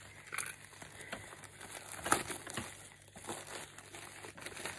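Crinkling of plastic wrapping being handled up close, with irregular rustles and a sharper crackle midway.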